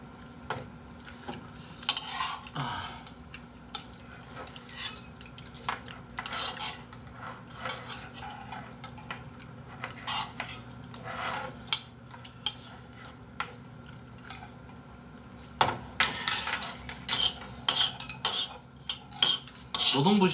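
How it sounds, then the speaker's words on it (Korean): Eating utensils scrape and clink against a bowl during a meal, with frequent close, sharp metallic scratches and taps scattered irregularly throughout and growing busier toward the end. "그릇 긁는 소리 들어봐봐"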